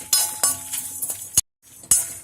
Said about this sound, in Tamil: கைவிடாம இந்த மாதிரி நல்லா வறுத்துட்டே இருங்க